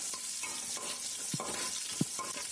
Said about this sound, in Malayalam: 1 സ്പൂൺ വെളുത്തുള്ളി, 1 സ്പൂൺ ഇഞ്ചി, 2 പച്ചമുളക് കൂടി ചെറുതായിട്ട് അരിഞ്ഞത് കൂടി ചേർത്തൊന്ന് ചെറുതായിട്ടൊന്ന് ചൂടാക്കി എടുക്കണം